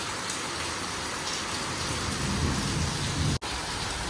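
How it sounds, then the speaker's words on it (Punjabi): Heavy rain pours down in a dense, constant hiss, with a low rumbling undertone; no voices. "ਮੀਂਹ ਬਹੁਤ ਤੇਜ਼ ਹੈ"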